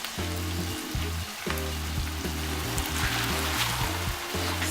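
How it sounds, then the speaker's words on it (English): Vegetables stir frying in a pan for a Nigerian vegetable sauce, a steady close sizzle running throughout under a loud sustained musical backing, with no talking. "We're just gonna stir fry this for about 1 to 2 minutes, then we'll add our spinach."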